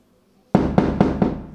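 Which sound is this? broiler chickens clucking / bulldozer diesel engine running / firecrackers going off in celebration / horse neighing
firecrackers going off in celebration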